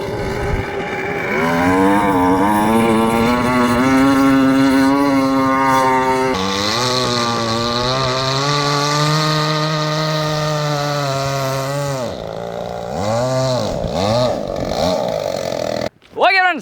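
A chainsaw-engine-powered RC boat buzzes loudly nearby, its high two-stroke whine rising and falling as the throttle changes, then fading and warbling before cutting off at the end.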